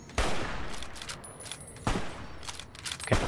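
Gunfire in the video game Fallout New Vegas rings out in three sharp, loud reports spaced about a second and a half apart, each followed by a ringing tail and lingering echo.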